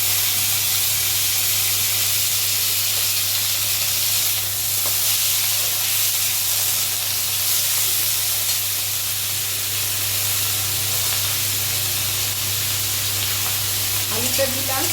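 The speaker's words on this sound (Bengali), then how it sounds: "শুকনো লঙ্কা দিলাম, পেঁয়াজটা দিয়ে দিলাম," Dried red chillies and onion frying in hot oil in a pan give a loud, steady sizzle with constant hiss and faint stirring throughout.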